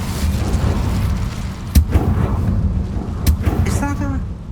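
An Incendio fire spell is cast in the video game Hogwarts Legacy, giving two sharp, loud bursts about a second and a half apart over a steady rumbling game soundscape.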